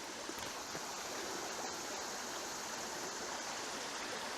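A creek flows across a woodland trail crossing, a steady, close rushing and gurgling of water that holds even and unbroken throughout.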